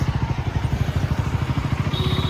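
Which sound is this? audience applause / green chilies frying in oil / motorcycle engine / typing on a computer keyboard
motorcycle engine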